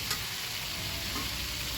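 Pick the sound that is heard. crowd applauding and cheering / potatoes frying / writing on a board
potatoes frying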